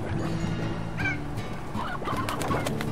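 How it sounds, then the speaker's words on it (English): A rock chicken in the video game Slime Rancher gives short cooing clucks in a few brief bursts over a low background hum, with no talking. "that's a rock chicken"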